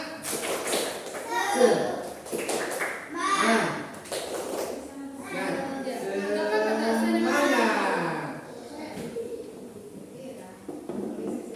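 Schoolchildren in an Indonesian primary school classroom perform a rhythmic spirit clap, chanting together in unison with sharp, patterned claps woven through their voices, close and lively.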